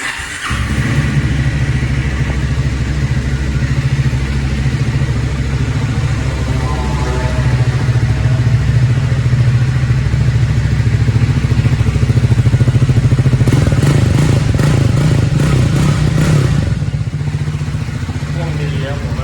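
A Triumph Speed 400 motorcycle engine runs close by, with a steady loud idle rumble, a brief rev partway through and then a settle back to idle, while someone talks over it.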